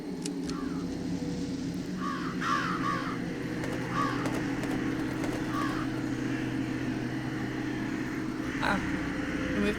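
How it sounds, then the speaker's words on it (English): Several crows caw in a night scene from the video game Jenny LeClue. The caws come in short clusters of harsh, mid-distance calls over a steady low rumbling ambience. "It certainly seemed a lot louder with all the crows."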